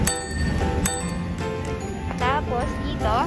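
A bell on a two-seater kids' cargo tricycle with a front basket rings in several bright metallic dings with some quicker trills, close and clear over low background noise; a voice talks beneath them at times.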